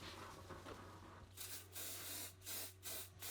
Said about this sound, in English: We spray glue it up a bit